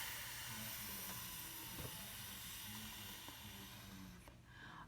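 A voice imitates a lawn sprinkler's steady whispering spray with a continuous soft hissing shh that holds evenly for several seconds, close and quiet.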